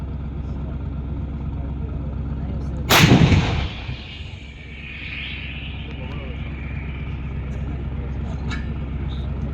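An Indian Army artillery gun at the annual firepower demonstration in Devlali, Nashik, fires a sudden loud blast that booms and rolls away into a long fading rumble, with an announcer's voice faintly present.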